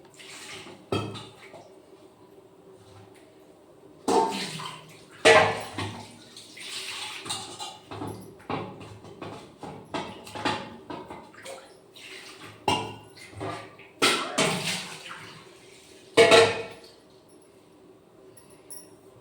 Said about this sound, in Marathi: तर याला छान दोन पाण्याने छान धुवून टाकते